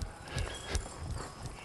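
Horse hooves thud in a quick, uneven rhythm as a two-year-old working horse moves and turns while working cattle, with scattered heavier footfalls over steady outdoor background noise.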